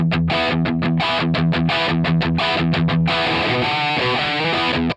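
Electric guitar plays through a modelled rock amp head on its bright, crunchy first channel, with a choppy run of distorted palm-muted chords that opens into sustained ringing crunch chords, loud and close, ending abruptly.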